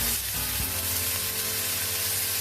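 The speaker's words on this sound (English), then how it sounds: "Turn the heat down because we don't want that absolute sizzle." Steady, loud sizzling and crackling of food frying in a hot pan, a continuous hiss close to the listener.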